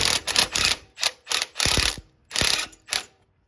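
A ratchet with a half-inch socket loosens a bolt while an EGR valve is replaced on a 1995 Ford F150, sounding as several close, sharp bursts of rapid clicking separated by short pauses.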